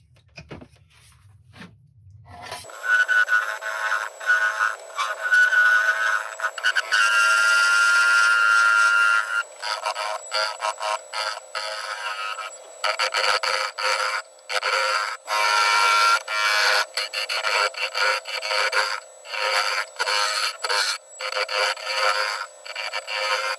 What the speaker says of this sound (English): while I've got the lid off, I'm just going to smooth up these sides